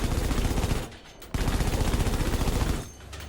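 Rapid automatic gunfire aimed at enemy aircraft in Battlefield V, loud and close, a fast continuous burst that stops briefly, resumes, and ends with a short trailing gap.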